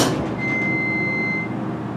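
A sliding door of a Westinghouse hydraulic elevator at the Hyatt Regency, Green Bay, Wisconsin, rolls shut with a low mechanical rumble, accompanied by a sustained high electronic tone that stops before the door settles.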